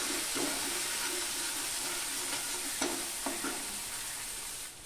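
Cumin powder and green chili paste sizzle in hot oil for a vegetarian soybean curry, a steady close hiss broken by a few soft scrapes and knocks of stirring.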